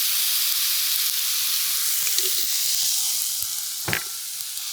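Chicken fried rice sizzling on a hot Blackstone griddle outdoors, a steady close hiss of frying with occasional stirs and one sharp scrape of a spatula near the end.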